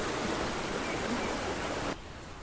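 A stream flows near a waterfall, a dense steady rush of water close by that abruptly drops to a quieter, distant murmur near the end.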